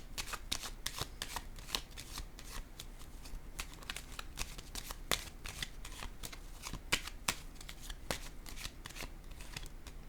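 Tarot cards shuffled and laid down, a run of sharp riffling flicks and soft slaps at a quiet, close level, with no voices.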